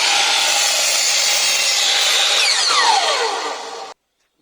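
A circular saw rips boards lengthwise, a loud, close whining cut with a falling pitch near the end before it stops abruptly.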